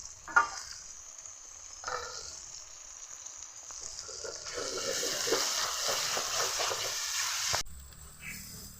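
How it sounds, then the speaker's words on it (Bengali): Onion, ginger and garlic paste sizzles and fries in a pan, with a steady hiss swelling louder midway alongside soft stirring scrapes, then easing off near the end. "রসুন বাটা একসঙ্গে ভালোভাবে কষিয়ে নিলাম"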